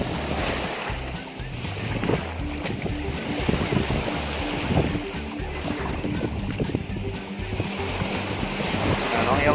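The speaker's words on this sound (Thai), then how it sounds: "น้องยอนกันนี้นะมาเล่นน้ำทะเลอีกแล้วนะครับ" Sea waves wash steadily onto a beach with a continuous rushing surf and some wind, while a child plays in the water and people talk over it.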